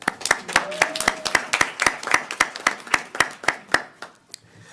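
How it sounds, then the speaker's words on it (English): Scattered audience applause at a school board meeting: a small group claps in a distinct, rhythmic series of sharp hand claps that slowly thins out and stops near the end. "I would like to give a round of applause to the woman right next to me"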